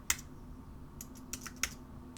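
Keys on a computer keyboard are tapped as a web address is entered, a few quiet, sparse clicks close by with short gaps between them.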